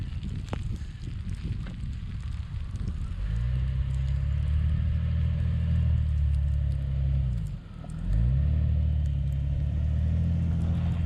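A Jeep Cherokee XJ in four-wheel drive runs with a steady, loud low engine rumble and wind buffeting at the mic. There is a brief dip near the end before the drone resumes.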